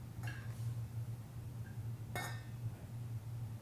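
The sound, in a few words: sweet potatoes pierced with fork and placed in 4-quart stock pot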